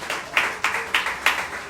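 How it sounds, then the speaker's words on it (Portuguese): A church congregation clapping in praise to the Lord during a service, heard as a few loud rhythmic bursts of claps spaced roughly every third of a second, close and reverberant. "Aplauda ao Senhor mais uma vez."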